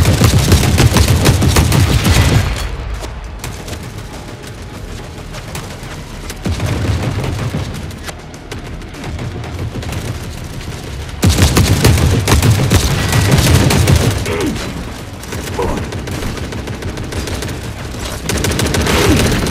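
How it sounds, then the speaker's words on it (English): Heavy gunfire from The Forever Winter video game roars in long sustained bursts of rapid automatic fire with booming impacts, loud and close, alternating with quieter stretches of distant shooting. "That's incoming. Someone shooting my back."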